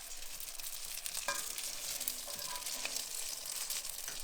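Feta and spinach spirals crisping in a hot pan give a steady, fairly quiet sizzle and crackle with faint clicks throughout.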